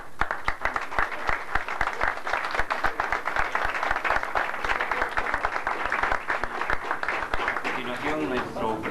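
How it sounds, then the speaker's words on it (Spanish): Audience applause at a journalism awards event, sustained clapping with distinct sharp individual claps in a steady rhythm, while speech carries on over it. "Tengamos por favor un aplauso"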